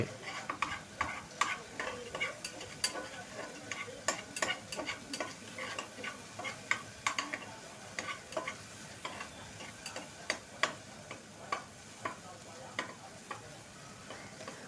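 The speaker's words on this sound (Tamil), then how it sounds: "தக்காளி எல்லாம் பாதி வதங்கி முடிச்சாச்சு." Tomatoes sautéing in a pan while being stirred, with a steady soft sizzle and frequent scraping clicks of the spoon on the pan, close by and with no voices.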